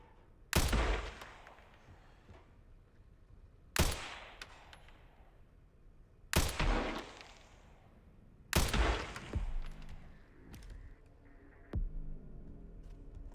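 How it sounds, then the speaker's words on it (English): Sniper rifle shots ring out in Resident Evil Requiem, four loud, sharp cracks spaced a few seconds apart, each trailing off into a long echoing decay, then a softer thump near the end. "Let me just do a little bit of sniping."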